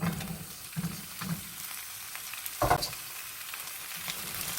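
Salted cucumber stir-fried with a little garlic in a pan, a soft steady sizzle punctuated by several spatula scrapes and one sharper clatter.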